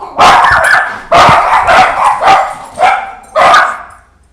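Several dogs barking in loud, close bursts, five or six separate volleys spread across a few seconds with short gaps between them, no talking over them.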